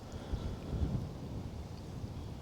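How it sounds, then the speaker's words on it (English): Gusty wind outdoors beside a fishing lake on a chilly day, a low steady rumble buffeting the microphone with slight swells, fairly faint throughout. "get the odd gust now and again."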